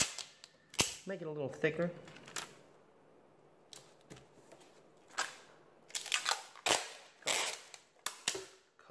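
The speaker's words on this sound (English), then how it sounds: "You'll never have to hear this annoying rip again" Sharp, scratchy ripping bursts come in quick clusters while a paper craft is folded, fairly close and loud, with a short stretch of talk near the start.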